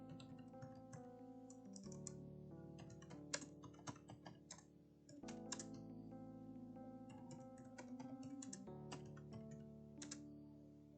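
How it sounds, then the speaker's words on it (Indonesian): Rapid typing on a computer keyboard, close and steady, with clusters of light key clicks and brief pauses between bursts, heard alone. "Kita ketik di sini."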